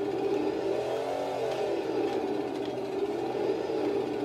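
A motorbike engine revs steadily with a whirring drone in Halo gameplay, the pitch wavering slightly as the bike is driven, loud and continuous with no talk over it.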